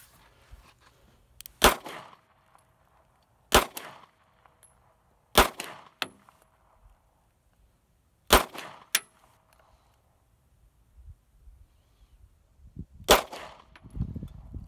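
A Taurus PT92C pistol fired outdoors at a propane tank: five or six sharp cracks spaced a couple of seconds apart, with faint metallic pings between them, against quiet surroundings.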